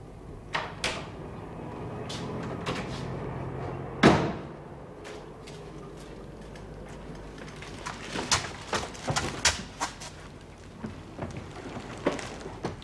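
A door opens indoors with scattered clicks and knocks of handle and latch, then one sharp louder thud, followed by further irregular small taps and bumps against a constant low room hum, with no talking.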